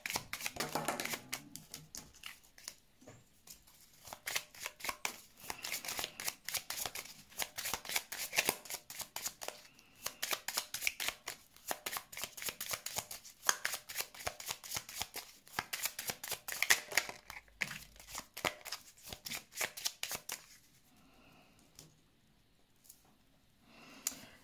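Tarot cards are shuffled close up for a card draw, a long run of rapid riffling flicks and slaps that stops near the end.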